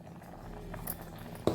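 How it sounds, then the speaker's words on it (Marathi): A pot of dal coming to a boil for a homemade peanut-based amti, with faint low bubbling throughout and a single soft knock near the end. "आपल्या डाळीला व्यवस्थित उकळ येते"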